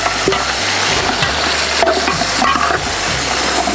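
Tomatoes and peppers sizzle and crackle as they fry in a hot pan with black pepper and cumin, a dense, steady hiss with scattered stirring scrapes close by and no talk.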